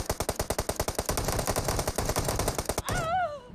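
Rapid automatic gunfire rips out in a dense burst of near, loud shots during an online shooter match, stopping abruptly before a few whistling, warbling game tones.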